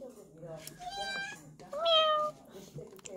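A voice imitates a cat, giving a couple of drawn-out meows in a quiet room, the second louder and higher.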